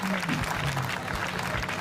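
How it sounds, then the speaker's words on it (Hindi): Audience clapping at a Hindi comic poetry recital, a short burst of dense applause mixed with voices and a host speaking over it. "तालियां भाई, बहुत जोरदार।"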